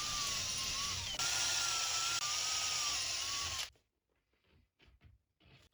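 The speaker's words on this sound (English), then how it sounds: "I committed the deadly sin of driving screws into end grain MDF" Power drill driving screws into end-grain MDF, a loud steady whine with a slight pitch wobble and brief breaks, running about three and a half seconds before cutting out, followed by faint handling clicks.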